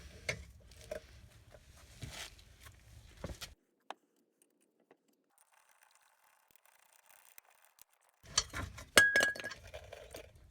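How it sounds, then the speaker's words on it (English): On the rear brakes of a Chevy Cruze, a 15 mm socket on a breaker bar works the caliper bracket bolts loose with metallic clinks and rattling, then a quiet stretch before more clanking of tools and parts. "I'm going to use our 15 millimeter and a breaker bar to break these loose."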